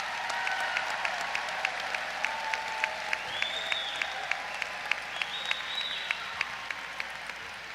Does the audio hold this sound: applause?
yes